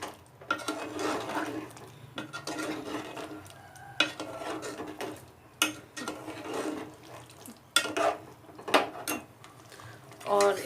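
Aloo kofta curry is stirred in a pot after coriander and green chillies are added. A spoon scrapes and clatters against the metal in irregular strokes, with soft bubbling underneath.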